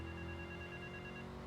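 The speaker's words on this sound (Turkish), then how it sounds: "Telefon çaldı çünkü." Phone ringing in the Grand Theft Auto 3 video game, a faint, steady electronic ring repeating evenly across a short stretch with no talk.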